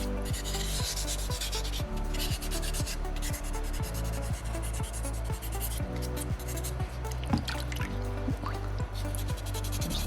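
A small soapstone Moai carving is sanded by hand with sandpaper, producing a continuous, close, rhythmic scratchy rubbing of quick back-and-forth strokes with no talking.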